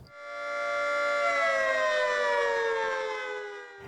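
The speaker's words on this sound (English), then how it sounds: "If you heard sirens Thursday," Civil defense tornado siren sounds during a statewide drill, one long wailing tone that swells and slowly falls in pitch, carrying clearly with no voices over it.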